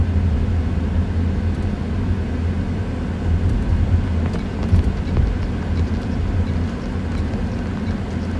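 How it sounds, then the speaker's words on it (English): A 2025 Toyota Prius plug-in hybrid cruising through city streets, heard from inside as a steady low road rumble and tire noise, with a few faint clicks. "this is a 2025 Toyota Prius plug-in hybrid"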